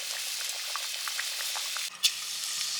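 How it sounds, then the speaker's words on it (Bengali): Black cumin seeds hitting hot mustard oil crackle and sizzle in a soft, spattering patter, then a sharp, louder burst of frying flares near the end, close up and with no talk. "সর্ষের তেল গরম হয়ে গেছে কালো জিরে দিলাম"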